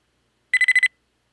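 A video game spider alert sounds as five quick, bright electronic beeps in a tight regular burst, crisp and close, followed by silence.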